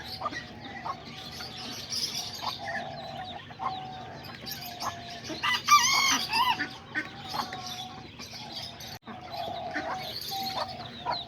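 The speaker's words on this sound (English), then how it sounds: "These are all the little hens that I got." Small Serama and Azteca hens cluck steadily nearby, with a rooster crowing briefly in the middle over a low background hum.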